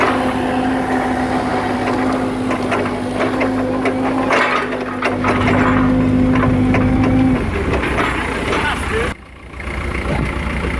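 A diesel forklift engine idles and revs with a steady loud rumble and a clear tonal hum, close by. The hum drops away near the end and there is a brief dip in the noise.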